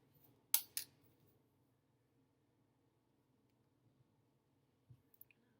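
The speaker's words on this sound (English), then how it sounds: "It helps if you use the very point of your scissors, the sharper edge." Scissors cutting with their sharp point during a craft project making a paper bunny: two quick, crisp snips close up near the start, then near silence with a few faint clicks at the end.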